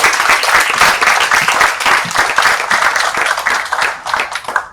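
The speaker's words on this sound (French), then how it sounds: "Merci Virginie, on peut applaudir, je pense." Sustained audience applause at a digital invoicing afterwork conference, dense steady clapping from a crowd filling the room without a break, fairly loud and close.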